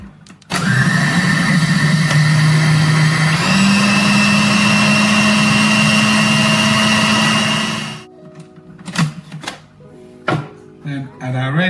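An electric whisk beats brownie batter with sweetener in a bowl, giving a loud, continuous motor whine that shifts up in pitch partway through, then cuts off, followed by sparse clatter and a voice.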